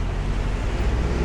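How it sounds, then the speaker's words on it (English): Steady street traffic on McDonald Avenue in Brooklyn, near the Ditmas Avenue station on a rainy day, forms a loud, continuous rumble and wash with no voices. "There'll be a lot of traffic"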